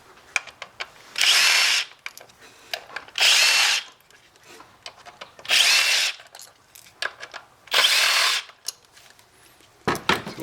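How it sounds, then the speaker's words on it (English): A power driver unscrewing the ignition coil hold-down screws on a car engine, four loud whirring bursts of about a second each separated by pauses filled with small clicks and handling noises. "Then we're going to unscrew"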